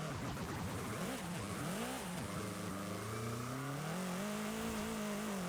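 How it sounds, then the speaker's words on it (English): A turbocharged stock engine in a racing video game revs up loudly through the gears, pitch climbing and dropping at each shift before holding a steady, rising drone, with no talk. "this stock engine though with a turbo going through the gears, it sounds so nice"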